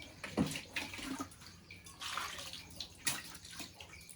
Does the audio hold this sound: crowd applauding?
no